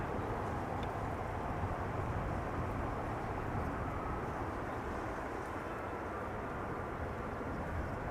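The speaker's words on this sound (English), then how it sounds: "Embraer 190 returning from Cardiff, touching down after 58 minutes of flight" An Embraer 190 airliner touches down at Amsterdam Schiphol, a steady, loud broadband roar that holds evenly throughout without voices.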